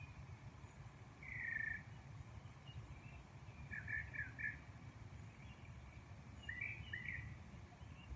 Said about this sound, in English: A couple of you have commented about the birds.